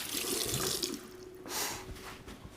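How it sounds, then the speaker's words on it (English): Tap water runs into a kitchen sink as hands are washed during wild boar ragu preparation, a steady rushing stream that dips and swells with splashes near the end. "Wash my hands."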